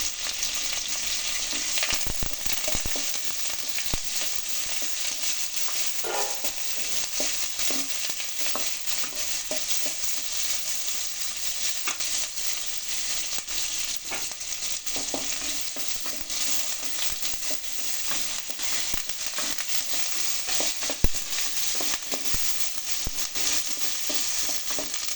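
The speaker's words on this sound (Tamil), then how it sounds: "தக்காளி போட போகிறோம். கருவேப்பிலை போட்டுக்கிட்டோம்." Tomatoes and curry leaves are sautéed in hot oil for a Tamil dry fish curry, giving a loud, steady close sizzle with occasional stirring scrapes throughout and no voices.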